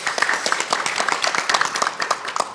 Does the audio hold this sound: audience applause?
yes